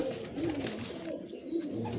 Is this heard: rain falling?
no